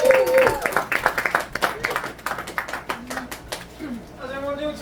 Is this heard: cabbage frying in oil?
no